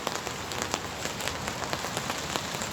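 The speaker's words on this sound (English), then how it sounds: "It's raining a bit, but no big storm." Steady rain pattering on surfaces at a floodplain campsite as a storm begins to arrive, a continuous close hiss of drops with small irregular taps throughout and no voices.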